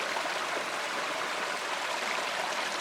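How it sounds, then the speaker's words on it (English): Running water of a mountain stream, a steady, close, even rush of bright splashing and gurgling that holds level throughout with no voices. "Why is the sound of running water so calming and peaceful?"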